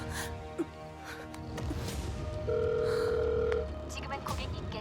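A steady electronic telephone disconnected tone holds for about a second amid background noise and faint voices, ending abruptly, in an animated series.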